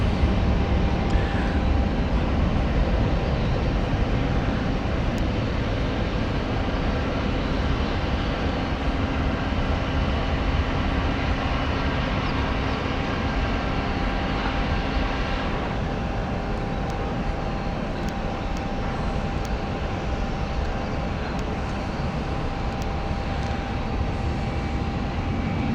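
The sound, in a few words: airplane flying over London, Orlando flight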